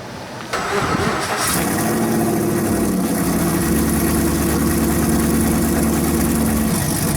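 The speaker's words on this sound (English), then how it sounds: "here's that cold start with the muffler delete" A 2012 Chevrolet Camaro SS V8 engine cold-starts, cranking and firing up, then settles into a loud, rumbling, uneven idle that stays steady and close with the muffler deleted.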